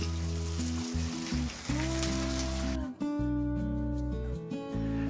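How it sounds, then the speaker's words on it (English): Water poured into a hot pan of spiced Goan potato bhaji gives a rushing, crackling hiss like rain, shifting midway, with music playing underneath. "Now add 2 cups of water."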